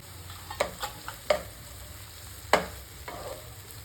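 Onion, curry leaves and tomato fry in a pan for an egg curry, with a soft steady sizzle beneath a few sharp scrapes and taps of stirring spaced through the moment, no voices.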